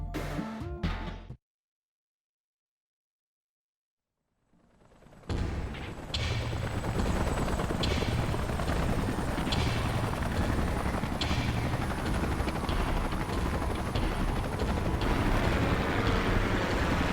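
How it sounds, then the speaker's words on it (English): Salvage helicopters in the video game Xenoblade Chronicles X thump in after a short silence, their rotor noise swelling into a loud, steady roar that holds to the end with no talking. "Let's call in the salvage choppers and get it out of here."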